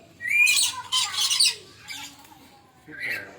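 Loud, harsh squawks and screeches from a bird in a bird park come in bursts of two or three calls, then a final shorter cry after a pause, with faint background murmur.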